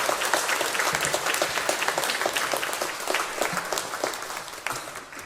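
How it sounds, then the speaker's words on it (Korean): Congregation applauding during a Sunday worship service at a church in Mokpo, steady dense clapping from many hands filling the room, fairly loud and continuous before easing slightly near the end. "주님께 우리 다시 한번 영광의 박수 드려드립니다"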